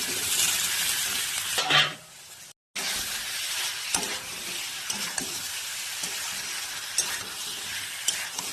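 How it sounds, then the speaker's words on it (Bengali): Papad frying in hot oil, a steady broad sizzle that runs almost throughout, with a brief pause partway and a few small crackles and clicks. No voices are heard. "পাঁপড় ভাজা"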